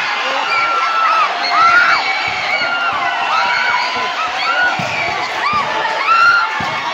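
Loud, continuous crowd at a basketball championship game, shouting, whooping and cheering throughout, with high excited voices rising in repeated swells over a dense roar.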